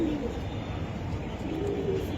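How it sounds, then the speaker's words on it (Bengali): A chocolate racer pigeon at a pigeon farm coos softly and steadily, partly buried in a dense, noisy background with no clear talking. "আর এই যে কবুতর"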